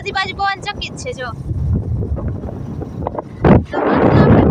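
Wind blowing outdoors along a road, rumbling steadily against the microphone after a brief voice at the start, with a louder gust near the end.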